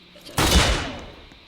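Gunfire in the Roblox game KAT: a single loud, close blast with a rough burst that fades over about a second.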